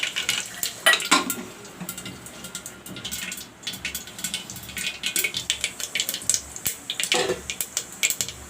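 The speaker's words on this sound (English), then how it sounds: "Now I will put in the mustard seeds and the red dry chilies." Mustard seeds and dry red chilies crackle in hot mustard oil in a pan, with a stirring spoon scraping and clinking against the metal, close and busy with scattered pops.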